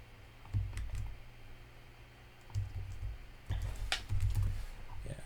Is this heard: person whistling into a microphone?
no